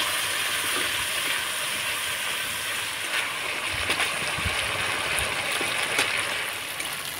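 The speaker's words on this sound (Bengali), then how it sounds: "এবার মশলাটা নাড়াচাড়া করে আমি কষিয়ে নেব" Ground spice paste with coriander powder frying and being stirred in hot oil for a vegetarian fish curry, a steady close hiss with scattered soft scrapes and pops, no voices.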